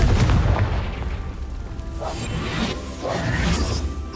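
Booming spell blasts and whooshes from the Confringo explosion spell in Hogwarts Legacy, loud and dense with several bursts rolling over one another across the whole stretch.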